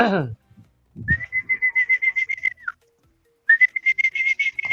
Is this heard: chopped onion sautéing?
no